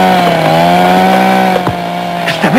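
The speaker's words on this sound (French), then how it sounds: "Je t'avais dit d'arrêter cette tronçonneuse." A chainsaw engine runs loud and steady throughout, its buzzing drone holding a constant pitch with a brief revving change near the end.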